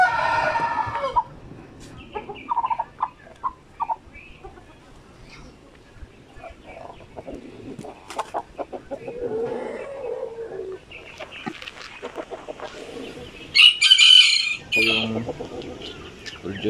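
Chickens on a chicken farm cluck and squawk throughout, with a rooster crowing loudly near the end, mixed with faint background voices.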